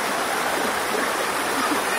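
Steady river water rushing and flowing around a swimmer, a dense continuous wash of noise close by, loud and unbroken, with no talk.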